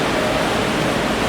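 On a cruise ship deck, running water on a water slide makes a steady, broad rushing splash that stays close and continuous, with no voices over it.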